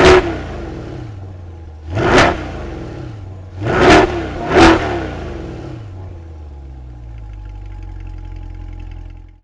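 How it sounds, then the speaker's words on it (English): A Chevrolet C8 Corvette Stingray Convertible's exhaust fires up and then revs three times in sharp bursts, the second two close together, before settling into a steady low idle rumble, heard up close and loud with no talking. "Let's go ahead and listen to the exhaust system"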